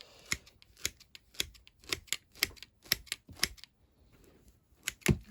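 Live sphagnum moss being cut with scissors, about a dozen sharp crisp snips in an uneven rhythm, close and quiet, with a brief pause before the final cuts.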